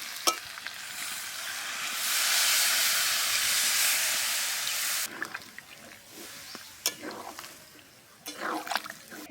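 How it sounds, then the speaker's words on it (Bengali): Water poured into a pan of frying jackfruit and chicken curry sets off a loud burst of hissing steam and sizzle for a few seconds, then fades to softer sizzling with scattered stirring clicks and knocks. "এবার আমি জল দিয়ে দেবো।"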